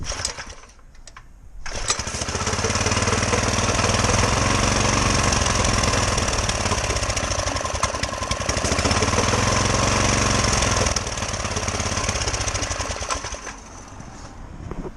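A small go-kart engine runs loud and steady for most of the span with a choke being gradually closed, its busy buzzing drone starting after a brief quiet moment near the start and easing slightly toward the end.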